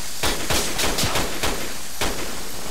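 Gunfire cracks in the tactical shooter Project Reality, about seven loud, close shots in an irregular rhythm over roughly three seconds.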